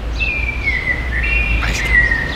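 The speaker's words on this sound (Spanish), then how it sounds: "Escuchen solo los pajaritos." Small birds chirp and trill in a mausoleum cemetery in Mexico City, with thin high calls that are close and clear over a steady low background hum.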